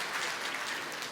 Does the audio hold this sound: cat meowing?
no